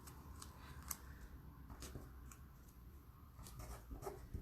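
Scissors cut through a paper sewing pattern along a stitching line: faint, close snipping and rustling in a quiet, steady run, with no talking.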